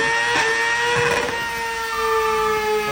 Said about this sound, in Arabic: هذول عم يجرب الموتور ايش قد يمشي